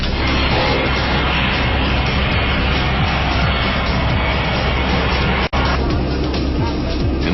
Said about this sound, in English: the airplane accelerates down the runway